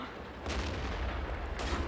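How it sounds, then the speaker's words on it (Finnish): Panzer IV tank cannon firing in the World of Tanks video game, a heavy booming shot with a long rumbling tail and a second blast close behind, loud and alone. "Panzer 4 ampuu tän."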